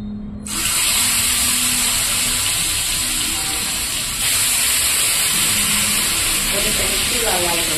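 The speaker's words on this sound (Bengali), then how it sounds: "তো এবার আমি পনিরটাকে ভেজে নেব।" Paneer drops into hot oil and breaks into a loud, steady sizzle that carries on without pause, close and hissing, with a faint clink of utensils near the end.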